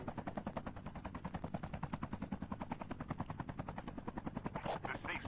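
Rapid, rhythmic chopping of helicopter rotor blades during flight in the video game Call of Duty Mobile, loud and continuous throughout, with a brief burst of gunfire-like noise near the end.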